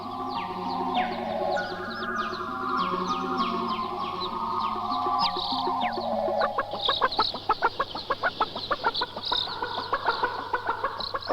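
Chickens and roosters at an industrial poultry farm cluck and chatter in a busy chorus over a steady mechanical hum, with the clucking growing more rapid and choppy toward the end.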